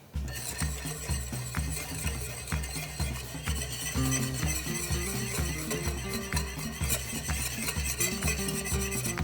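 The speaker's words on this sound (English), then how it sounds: "as this is simmering, I'm gonna slowly add the cornstarch" Sauce simmering in a pan while a spoon stirs it steadily and cornstarch goes in, for tofu bánh mì. Soft clinks and scraping fall in a regular rhythm under a faint bubbling hiss.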